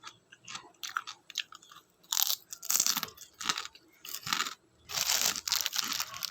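Crunchy chicharon pork rinds being bitten and chewed close to the mic, loud crisp crunching bursts in irregular bites with brief pauses between, no talking.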